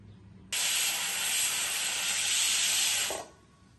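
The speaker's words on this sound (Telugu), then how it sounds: "కుక్కర్ 4 విజిల్స్ వచ్చేసింది, ప్రెషర్ అంతా పోయింది." A stovetop pressure cooker of gongura dal vents steam in one loud, steady hiss that starts abruptly, holds for nearly three seconds, then cuts off and fades, with no voices.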